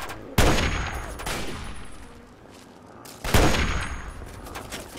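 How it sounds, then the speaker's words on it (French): A sniper rifle in Fallout 3 fires two loud, sharp shots about three seconds apart, each trailing off in a long echoing decay, with no talking. "Fusil sniper, c'est vraiment très bon quoi."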